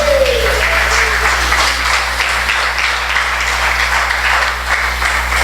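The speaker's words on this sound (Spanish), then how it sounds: "¿Cuánto le pueden dar un aplauso al Señor?" A church congregation clapping in praise to the Lord: a loud, dense burst of applause over a steady low electrical hum, continuing evenly for several seconds.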